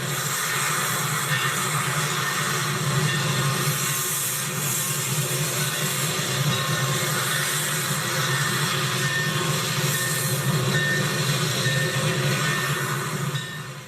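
A steam-era locomotive sits idling at a station platform before departure, giving a steady, loud broadband rumble and hiss that holds evenly throughout with no voices.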